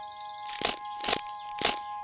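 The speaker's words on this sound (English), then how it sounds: "we're just breaking crackers. Crunchy crackers." Crunchy crackers are snapped by hand three times in an even rhythm, each break a sharp, close crunch over a faint steady background tone.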